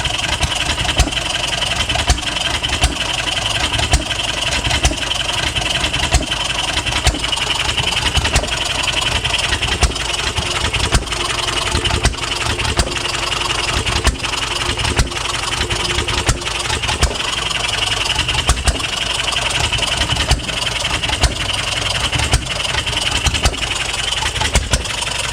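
A small hit-and-miss farm engine runs steadily on its own, its loud, close chuffing beat repeating in an even, continuous rhythm.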